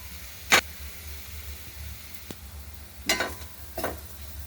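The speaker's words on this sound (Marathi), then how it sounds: "मसाले मस्त कांद्यामध्ये परतून घेऊ।" Onion, chilli powder and onion-garlic masala are sautéed in a pan for broccoli bhaji: a quiet low bubbling hiss with a few sharp spatula scrapes and short sizzle bursts.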